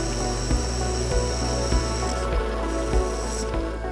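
A drill bores through holes in a machined robot elbow part, a steady mechanical whine broken by soft regular thumps about every half second.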